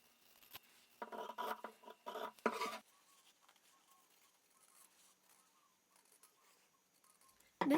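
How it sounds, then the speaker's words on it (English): Scissors cutting fabric heart shapes for a placemat, a close run of crisp snipping and rustling bursts followed by quieter scattered cuts and a final loud rustle. "Then repeat this process with the remaining fabrics until you have 6 heart shapes cut out."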